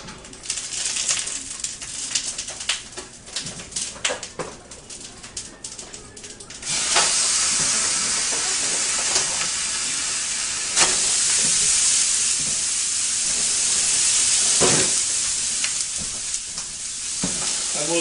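Ground beef browns in a pan with a hissy, steamy sizzle that grows louder and steadier partway through, punctuated by occasional scrapes, close and continuous with no talking.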